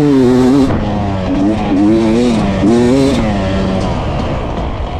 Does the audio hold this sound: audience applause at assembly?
no